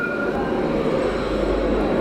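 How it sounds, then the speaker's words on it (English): A train rumbles past close by in Jerusalem, a steady loud low roar with faint wheel squeal, continuous throughout with no voices. "I'll try not to get hit by this train."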